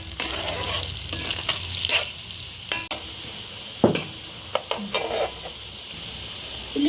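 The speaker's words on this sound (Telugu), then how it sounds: "ఉల్లిపాయలు వేగిపోయాయి." Sliced onions frying in a pan for a Telugu-style fish curry, a steady hiss of sizzling oil broken by sharp clinks and scrapes as a utensil stirs against the pan, close and clear, with no talk.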